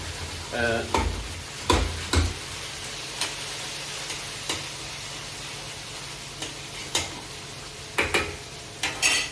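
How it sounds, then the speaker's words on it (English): Chicken sears in a hot pan with a steady, soft sizzle and crackle, punctuated by scattered clicks and scrapes of a utensil stirring and turning the pieces. "I'm deliberately searing the chicken"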